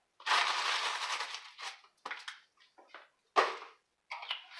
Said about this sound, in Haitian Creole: je vais déjà casser la glace là